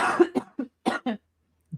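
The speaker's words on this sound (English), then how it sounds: "Just trying to get rid of this stupid cough" A person coughs in a short cluster of harsh, raspy bursts, four or five in quick succession, then a final softer cough after a brief pause, close to the microphone.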